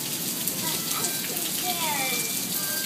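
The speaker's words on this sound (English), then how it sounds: "It's the rain." Steady broadband rain during a thunderstorm, pattering continuously close by with a voice faintly audible over the hiss and no thunder crack standing out.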